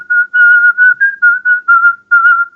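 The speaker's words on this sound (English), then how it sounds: "See, I can whistle." A person whistles a melody from the Gremlins film, a close, clear tune of short phrases with brief pauses between them, heard alone without talk.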